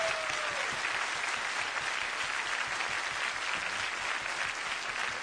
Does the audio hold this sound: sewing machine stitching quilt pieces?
no